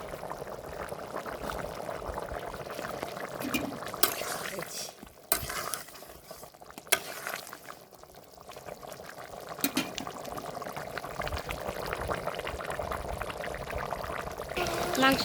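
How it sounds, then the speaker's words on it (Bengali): Broth goes into chicken curry frying in a pan, a steady sizzling and bubbling hiss with brief stirring and clatter, and a voice speaking over the cooking. "এখন ঝোল দিয়ে দেব।"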